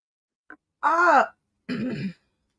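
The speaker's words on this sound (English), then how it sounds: "Let me clear my throat." A person clears their throat twice in quick succession, two rough, voiced rasping bursts after a tiny click, close and fairly loud with silence around them.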